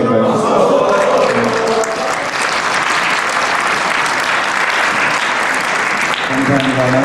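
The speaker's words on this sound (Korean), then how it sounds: "만장일치로 박수를 받아주셨습니다" Sustained, dense applause from an assembled church pensioners' association gathering as a new president is approved by acclamation, loud and continuous with voices mixed in throughout.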